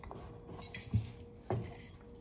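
Spoon stirring toasted dry masalas into chicken chettinad in a pan, with two distinct clinks against the metal over a low sizzle, fairly close and with no talk.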